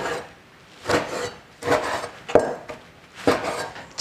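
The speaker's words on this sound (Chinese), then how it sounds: "焯水洗净后来切一下" Blanched beef is cut on a wooden board, with four or five knife strokes sounding as separate close scraping chops and a sharper knock in the middle, and no one speaking.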